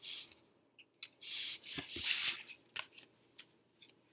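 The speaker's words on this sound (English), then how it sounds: "I really shuffle well" Tarot cards being shuffled by hand, a run of close soft riffling and sliding bursts separated by brief pauses.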